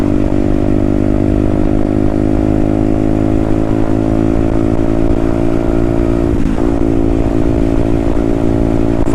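A Herald Maverick 125cc motorcycle, also sold as the Bullet Hero 125, ridden close up with a loud, steady single-cylinder thrum and rising engine note, its pitch dipping briefly near the end before climbing again.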